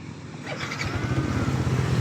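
A Yamaha NMAX V1 scooter engine starts: a brief starter churn catches into a close, steady idling putter with a low rhythmic throb that holds to the end.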